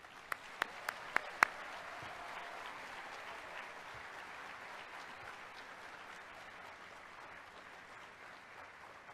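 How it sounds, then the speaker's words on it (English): An audience at a cruise ship naming ceremony for the MSC Seaside breaks into sustained applause, opening with a few loud, sharp claps before settling into a broad, even wash of clapping from a large crowd. "Please join me for a big round of applause for MSC Seaside."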